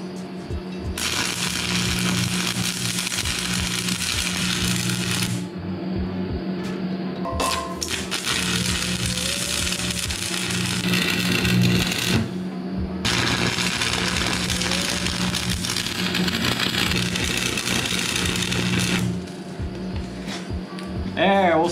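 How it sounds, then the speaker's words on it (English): Arc welding a small metal piece onto an excavator hitch: steady sizzling, crackling bursts run for several seconds each, three long welds separated by brief pauses, close and fairly loud. "we're gonna take this little piece of metal, we're gonna stick it right in there, and we're gonna weld that up real quick"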